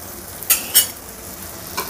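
A paneer-filled bun toasting crisp in butter on a hot pan, with a steady soft sizzle broken by two sharp scraping clicks of a spoon or spatula and a fainter one near the end.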